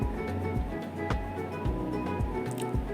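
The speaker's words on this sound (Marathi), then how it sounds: "मोहरी छान तडतडली" Mustard seeds splutter in hot oil in a heavy-bottomed kadhai as a tempering for sambar, giving scattered sharp pops and crackles over a low, steady hum.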